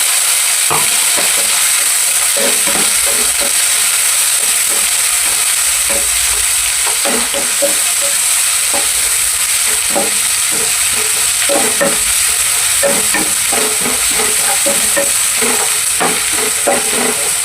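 Shallots, green chili and curry leaves fry in hot oil for a Kerala tuna fish curry, a loud constant sizzle broken by repeated scraping stirs of a spoon against the pan, with no talking.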